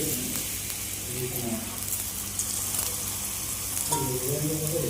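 A paratha fries in oil in a pan, giving a steady, moderately loud hiss and crackle with some soft scraping, while a voice murmurs faintly in the background.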